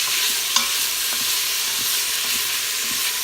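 Red beans frying in a pan with seasoning, stirred steadily: a constant loud sizzle with repeated soft scrapes and knocks of the spoon at a regular rhythm, close up and with no talking.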